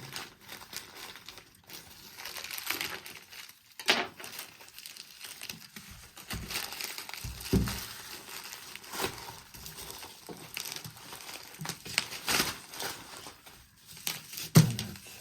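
Plastic wrapping on a package of physics exam books crinkles and tears as it is opened, in irregular close rustling bursts with brief pauses, fairly quiet overall.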